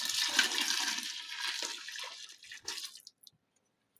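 Milk poured into a pot of rice, a steady close liquid pour and splash that tapers off into a few faint drips before falling quiet.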